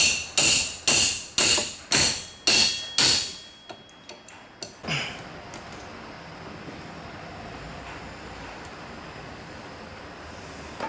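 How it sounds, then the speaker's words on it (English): A hammer hits a crescent wrench seven times in a steady rhythm while working on the A/C of a Ford Ranger. Each blow is sharp and close and rings out briefly, followed by quieter taps and then faint background noise. "We're going to use a crescent wrench and a hammer, and we're going to hold it like that,"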